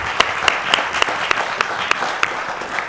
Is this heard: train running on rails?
no